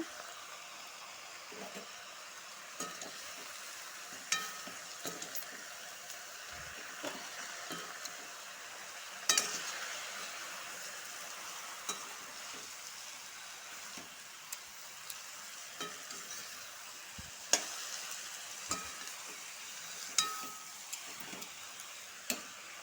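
Potatoes with turmeric fry quietly in a pan, a faint continuous sizzle broken by scattered clicks and knocks of a spoon stirring, with no talk.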